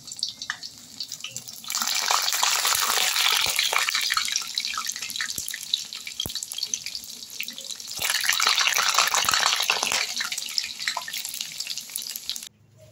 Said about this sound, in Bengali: ব্যাটারে ডুবিয়ে আমি সাদা তেল বসিয়ে দিচ্ছি ফ্রাই প্যানে, এরকম ছেড়ে দিলাম।